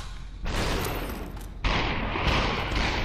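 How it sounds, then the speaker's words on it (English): Heavy gunshots from the video game Superhot land as two loud, broad blasts, the second following about a second after the first and trailing into a noisy rumble. "That was a horrible shot."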